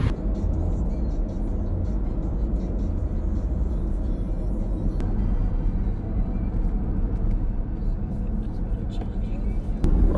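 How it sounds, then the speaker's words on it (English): A rental car on a road trip in Greece gives off a steady low rumble of engine and road noise from inside the cabin, constant for the whole stretch, and a voice talks over it. "we've actually been driving for a wee while now"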